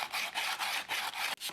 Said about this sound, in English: The sanding block makes it easier to hold the sandpaper and will keep the surface area flat on the troubled area.